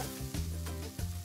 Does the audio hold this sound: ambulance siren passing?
no